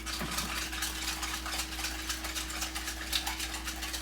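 A spoon or whisk stirs pumpkin puree into a French toast batter in a bowl, a soft, steady scraping swish over a constant low electrical hum, with no talk.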